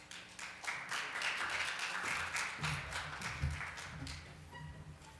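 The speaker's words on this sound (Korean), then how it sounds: "여러분 큰 박수로 환영해 주시기 바랍니다." Audience applause at a startup forum session as a speaker is welcomed onstage, a steady wash of clapping across a hall that holds at moderate level throughout, with faint background murmur.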